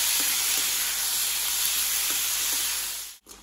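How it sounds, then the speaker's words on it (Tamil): Cloves, cinnamon, onion and tomato sauté in oil in a kadai, producing a steady close hiss of sizzling with a few soft stirring taps, then an abrupt break near the end. "இதெல்லாம் சேர்த்து நல்லா வதக்கி எடுத்துக்கலாம்."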